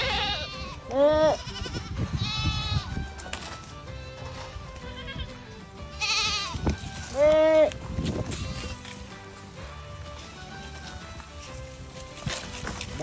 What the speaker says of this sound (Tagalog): sobrang gutom na ito ng mga kambing na to